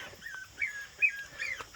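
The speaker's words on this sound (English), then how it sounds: "we got Jadzia's puppies" Young puppies give high, thin whimpers in a few short bursts, quiet and close, with no talking over them.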